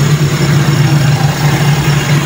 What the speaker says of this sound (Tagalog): pag nagwa-warm up tayo ng makina